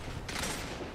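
A sharp, heavy cannon blast in the video game Destiny 2 erupts a moment in, followed by a brief roar of booming noise, loud and close.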